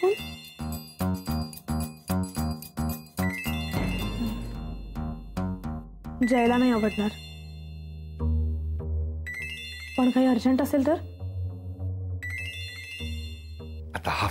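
A mobile phone ringtone plays a repeating chiming melody in a Marathi TV serial scene. It is clear and fairly close, then continues under a woman's speech and background music.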